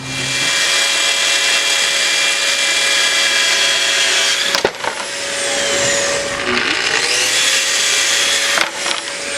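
A power saw runs with a loud, steady whine while trimming oak stair tread pieces, dipping briefly as cuts finish before the motor winds back up.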